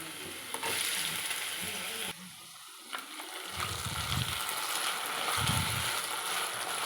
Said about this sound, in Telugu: ఇప్పుడు ఆయిల్ కాగిన తర్వాత పొటాటో ముక్కలు దీనిలో వేసేస్తున్నాను